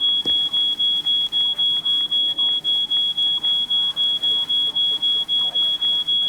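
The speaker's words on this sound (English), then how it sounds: "Okay, can we just switch off that alarm?" In the video game She Could Fly, a piercing alarm beeps in a rapid, unbroken rhythm at steady loudness, with faint talk and small noises beneath it.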